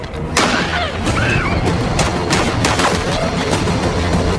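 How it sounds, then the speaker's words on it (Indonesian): Gunfire rings out in a film shootout from The Marksman: several sharp shots in quick, uneven succession, loud and close, with no voices. "melindungi Rosa dan Miguel hingga terjadilah baku tembak"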